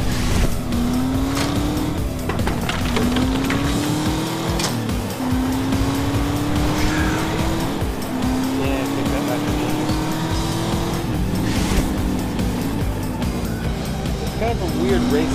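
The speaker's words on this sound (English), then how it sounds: "Kind of a weird racing game where like racing all out is not the good way to handle things." Cars race in the post-apocalyptic video game Post Apocalyptic Mayhem, their engines whining loud and continuous with pitch rising and dropping through gear shifts, along with scattered screeches and impacts.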